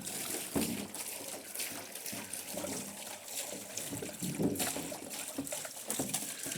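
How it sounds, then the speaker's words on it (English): Liquid glugging and splashing as a can is turned over and poured out into a bowl, an uneven, burbling watery pour with irregular gulps running close by throughout. "So, I'm going to turn this can over."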